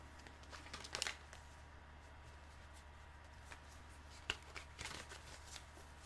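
Tarot cards being shuffled by hand: a quiet, close riffle near the start, then scattered soft flicks and card slaps over a faint steady hum, with no talking.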